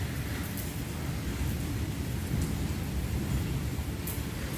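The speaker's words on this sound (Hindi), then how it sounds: "और बारिश देख लें हो रही है।" Rain pours steadily in a windy storm, a dense, even hiss of drops with a low rumbling undertone that stays constant throughout, no voices.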